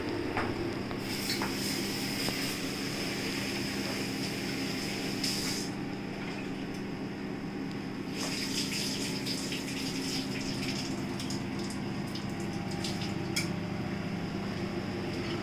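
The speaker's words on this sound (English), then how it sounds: "Meanwhile, tuar dal, I'll just wash it" Tuar dal is washed in water for sambar, a steady rushing pour with rubbing and swishing of the lentils, close and continuous with no voices.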